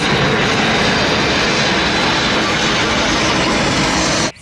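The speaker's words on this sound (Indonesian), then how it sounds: "This is plane." Toy airplane giving off a steady, loud electronic jet-engine roar that holds unbroken at constant level before cutting off abruptly near the end.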